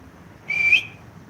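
A person whistles a single short, clear rising note, close and alone against quiet background hiss.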